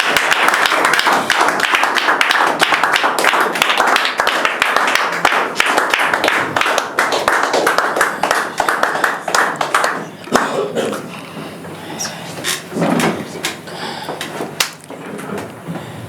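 A church congregation claps and cheers in praise during a prophetic worship service, with dense, sustained clapping that thins out toward the end as scattered claps and voices remain.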